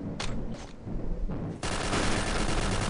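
Pistol gunfire in the video game Xshot Online: a few sharp, separate shots, then a loud, continuous stretch of rapid firing with no talk.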